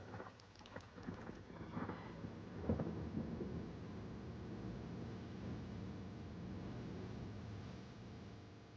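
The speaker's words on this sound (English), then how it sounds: "Heavy thunderstorm morning and afternoon." A heavy thunderstorm with a dense wash of rain noise and several low rumbling thunder bursts early on, one stronger crack near the middle, then steady downpour, fairly faint and distant.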